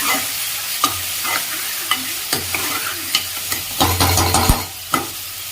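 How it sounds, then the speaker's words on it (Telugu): Tomatoes are stirred into a sizzling paneer and capsicum curry in a pan, with repeated spoon scrapes over a constant close, crackling fry. "సో టొమాటో వేసుకొని ఒకసారి కలుపుకోండి"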